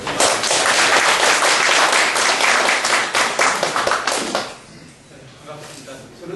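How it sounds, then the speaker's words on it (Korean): Loud, dense applause from a forum audience welcoming a speaker at a peace forum, strong for about four seconds and then quickly dying away to quiet room sound. "뜨거운 박수로 교수님을"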